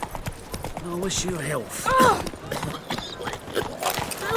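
Horse hooves clip-clop in The Witcher 3: Blood and Wine, a light, quick trotting rhythm that plays under voices speaking and a short, sung-sounding line.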